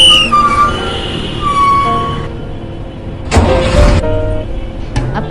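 A bus pulling to a stop, played as a sound effect in a church Sunday school skit: a steady engine rumble with whistling tones, then a sharp burst of hiss like an air brake release near the end.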